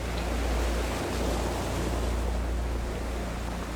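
Ocean waves wash onto a beach in an even, continuous surf wash. A low, steady rumble sits underneath, and no voices are heard.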